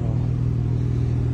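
Porsche Turbo S with carbon ceramic brakes, its engine holding a steady, loud low rumble that stays even throughout with no clear rev rise.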